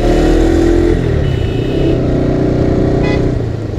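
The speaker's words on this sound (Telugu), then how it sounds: "ఒక్క బస్ వన్ వల్ల ఇన్ని వెహికల్స్ ట్రాఫిక్లో ఇరుక్కున్నట్టున్నాయి." Cars, motorcycles and a bus sit jammed in traffic on the ghat road from Kadumur toward Srisailam in the tiger reserve: engines hum and rumble up close and a horn toots briefly, with no talk.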